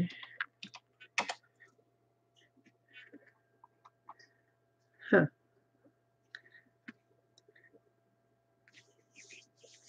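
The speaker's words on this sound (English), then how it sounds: "Maybe if I type something." Sparse clicks and taps on a computer keyboard come in short irregular bursts in a quiet room, with one louder thump partway through.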